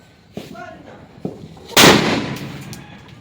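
Diwali firecrackers going off outdoors: a couple of small pops, then one loud, sharp burst that rings out and decays over a second, with faint voices in between.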